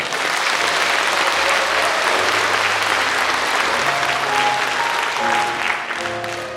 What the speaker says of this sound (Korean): 한 분 한 분 소개할 때마다 뜨거운 박수를 보내주시기 바랍니다